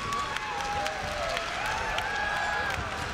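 A loud crowd roars at a ONE Championship fight, a continuous dense wash of cheering and shouts with faint whistles rising over it, filling the arena for a few seconds.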